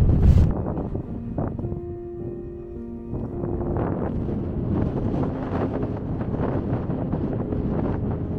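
Wind gusting across a mountain summit, a steady rough roar buffeting the microphone throughout, with a brief hollow whistling tone partway through and no speech.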